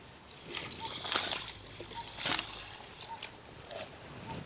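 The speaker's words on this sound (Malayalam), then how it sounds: "കുറച്ച് വെള്ളം ഒഴിച്ചിടാം" Water splashes and trickles into a pan of dried fish in a few short pours, fairly soft and close.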